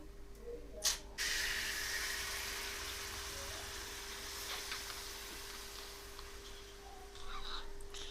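Tamarind water is poured into a simmering fish curry, giving a steady soft hiss and gush of liquid that fades and swells, with a sharp clatter near the start and a constant low hum in the kitchen.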